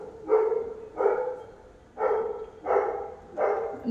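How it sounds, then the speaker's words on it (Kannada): A dog barks five times at a steady spaced rhythm, each bark short and moderately loud, with quiet pauses between. "ನಾಯಿ ತುಂಬ ಸೌಂಡ್ ಕೊಡೋದು ತುಂಬ ಹಿಂಸೆ ಕೊಡೋದು"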